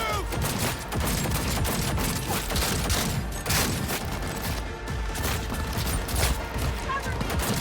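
Rapid bursts of gunfire fill a Cyberpunk 2077 firefight, dense and continuous with sharp cracks layered over a rumbling low end, while voices shout over the shooting.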